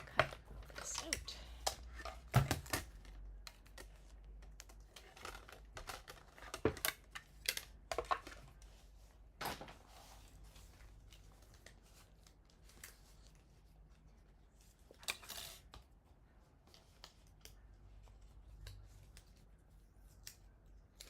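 Scissors cut out a paper craft piece for an Easter card, a series of faint, sharp snips and rustles scattered irregularly across the stretch, close and quiet, with occasional soft talk.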